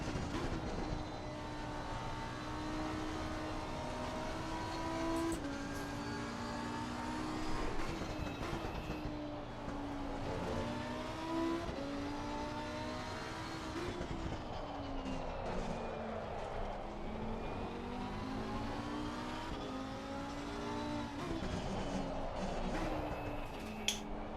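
A Ferrari 488 race car engine in the racing game Assetto Corsa Competizione drones continuously, its pitch repeatedly climbing and dropping through shifts and corners over a long, steady stretch.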